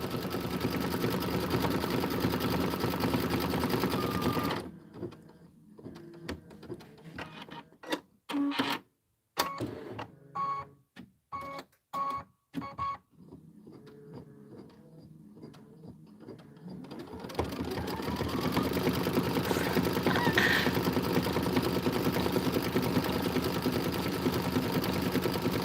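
Sewing machine stitching a decorative bandana fill pattern in burnt orange thread, heard in bursts of stop-start mechanical running between quieter pauses, with louder continuous room noise before and after.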